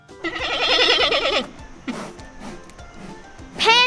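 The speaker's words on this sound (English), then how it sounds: "Panda." A panda bleating in a long, wavering, tremulous cry, followed by a short sharp call and a rising bleat at the end, close and fairly loud.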